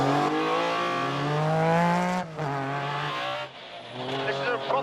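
A 400-horsepower Mini WRC rally car driving hard, its engine loud and close, revving and rising in pitch through the gears, with a sharp drop between shifts and tire noise as it corners.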